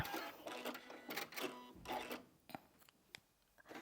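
A sewing machine stitches through a bulky quilt seam in several quick runs of rapid mechanical whirring, broken by short pauses and clicks as the fabric is guided.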